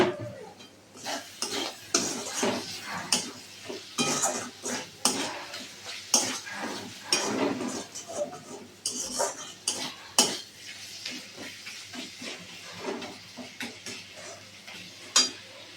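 Metal utensil scraping and clattering against a pan as ground coriander and cumin are stirred and fried into a spice paste for a loitta fish dish, a steady run of near, fairly loud knocks and scrapes.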